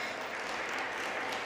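A gathering at a religious discourse claps together, a faint, even wash of applause held steadily through a very short moment.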